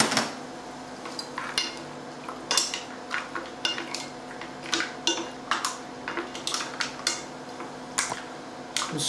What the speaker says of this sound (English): We'll now add the tomato in there like that.